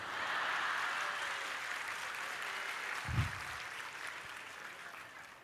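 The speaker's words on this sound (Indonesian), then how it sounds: "Kalau mau tepuk tangan" Listeners at an Islamic sermon by Ustadz Abdul Somad give a sustained, fairly distant wash of applause, with a single low thump partway through.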